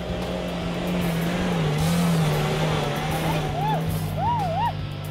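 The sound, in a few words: Suzuki Jimny engine revving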